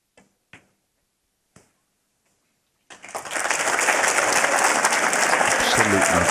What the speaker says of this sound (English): the crowd are starting to get excited